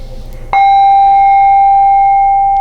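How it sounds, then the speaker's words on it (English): A protection bell is struck once before a meditation, ringing out as a loud, clear sustained tone that rings on steadily after a quiet start with no speech over it. "We'll do the protection bell."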